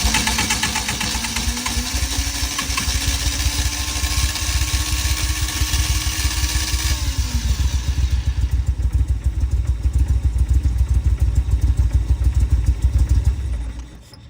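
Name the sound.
Lotus Esprit engine cranking over and running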